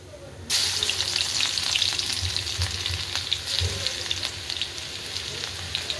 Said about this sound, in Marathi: त्यात मोहरी टाकून घेऊया। ठेचलेलं लसूण टाकून घेऊया।